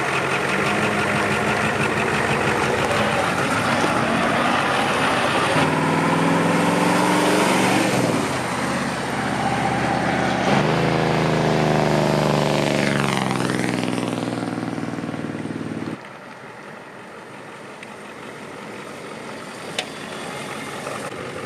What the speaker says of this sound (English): Best part of an IDI is the engine and the way it sounds